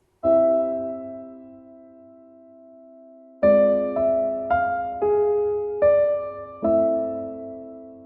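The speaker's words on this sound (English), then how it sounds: "Typically, we're going to have the strings playing this background part of the music." Strings sustain a soft background chord bed for a composition example, holding one long chord for several seconds and then moving through a series of shorter chord changes. The passage is clear and steady, with no voices.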